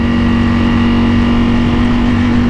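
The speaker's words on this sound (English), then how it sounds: "it gives you this harmonious, thunderous, brutish, jailhouse bully type of sound when you rev this thing" A Ducati Panigale V4 R motorcycle engine revs hard, giving a loud, steady, dense roar with no pauses.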